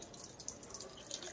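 Tap water runs into a container at home during Holi celebrations, a soft, steady trickle with faint dripping, fairly quiet and close, with no voices.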